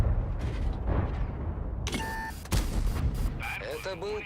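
A single sharp, heavy blast rings out from an STB-1 tank gun in an online tank battle game, cutting through ongoing talk amid other game noise.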